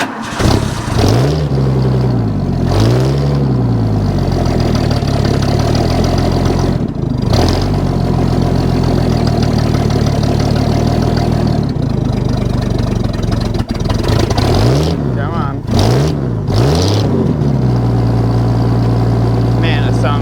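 A bullnose Ford 300 inline-six, newly converted from a one-barrel to a two-barrel carburettor, runs close by, revving in short bursts before dropping to a steady rough idle, with people talking over it.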